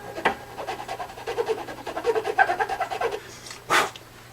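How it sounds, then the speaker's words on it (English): A file scrapes the frets of a cheap Glarry guitar, stroking toward the peg in a quick run of short, rhythmic rasps. The strokes are close and moderately loud and end in a sharper knock, with no talking. "There again, I'm filing toward the peg."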